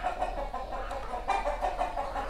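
Native country chickens cluck in cages on a poultry farm, a continuous overlapping chorus of soft clucks over a steady low background hum.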